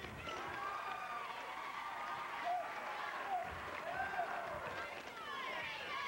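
Crowd at a 1992 high school basketball game, Belfry versus Knott County, a faint, distant bed of clapping and murmuring with scattered cheers and shoe squeaks in a gym.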